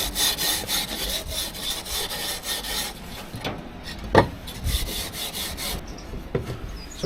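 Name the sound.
smoothing off the edges of bicycle wheel rims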